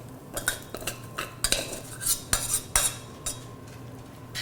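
Cooked rice mixed into beef filling for stuffed peppers with metal utensils, giving a series of sharp scraping clinks and taps against the pan, irregular and close, with no talking.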